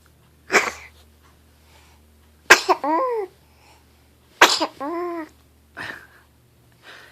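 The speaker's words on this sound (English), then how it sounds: "The most cutest sneeze that ever was." A baby sneezes several times in a row, short sharp bursts each followed by a small squeaky vocal trail, fairly close and clear with quiet pauses between.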